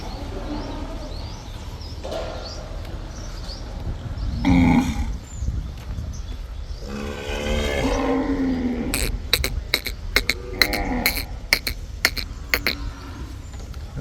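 Cattle in a gaushala cowshed give low lowing calls amid barn ambience, with birds chirping and cooing throughout and a burst of short bird calls near the end.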